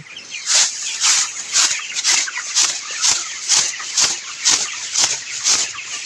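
Chickens on a farm, some with colds from the rain and heat, cluck in a steady series of about a dozen close, evenly spaced calls over a constant background hum.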